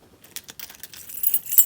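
A bunch of keys jingles and clinks as it is dropped into a small handbag during packing, bright metallic rattles close up that grow busier toward the end.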